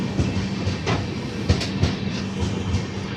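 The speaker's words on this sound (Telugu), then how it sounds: "మన ట్రైన్ మంత్రాలయం రోడ్ నుంచి అయితే బయలుదేరిపోయింది." The 22157 Mail superfast express train pulls out of Mantralayam Road station, with a rumbling carriage and rhythmic clickety-clack of wheels over rail joints, heard from on board, steady and fairly close.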